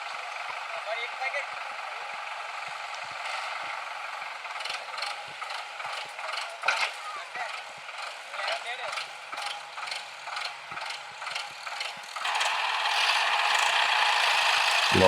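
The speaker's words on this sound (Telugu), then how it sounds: "ఓ దీని మళ్ళీ పుష్ చేయడానికి సోనాలిక వస్తుంది. సోనాలిక 4-wheel రైడ్ ఇది." Sonalika 4-wheel-drive tractor arriving to push a load through slimy mud, a steady mechanical rattle and engine drone with clanking bursts that swell louder toward the end.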